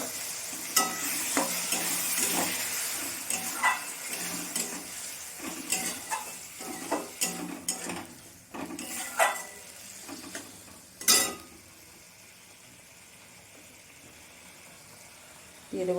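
Ginger, garlic and cumin paste fries with softened tomatoes in a Bengali jackfruit and small prawn dish, bursts of sizzling and spoon stirring against the pan, then the sound drops away to near quiet.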